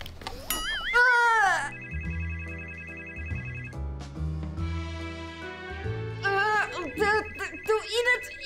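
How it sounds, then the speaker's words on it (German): A telephone ringtone plays a bright, repeating melodic ring close by, sounding through most of the stretch, while voices are heard over it at the start and near the end. "meine Mutter ruft mich an"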